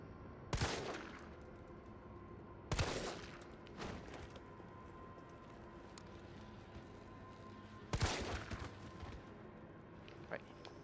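Gunfire in the Resident Evil 3 Remake video game: several sharp, loud bursts ring out at uneven intervals over a low ambient background.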